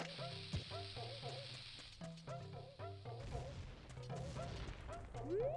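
Bomb explosions in The Legend of Zelda: Ocarina of Time, inside Dodongo's Cavern: several short, sharp bursts punch through steady game music at uneven intervals.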